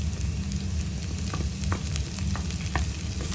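Green chili and curry leaves frying in hot oil with translucent onions for a Kerala-style pomfret curry, a loud, steady close sizzle with occasional clicks of stirring and no voices.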